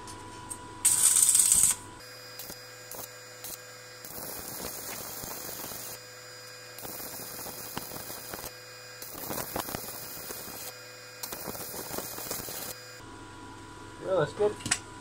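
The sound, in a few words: arc welding mild steel sharpening jig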